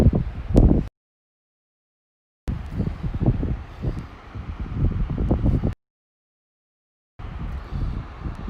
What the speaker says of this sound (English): quite windy here today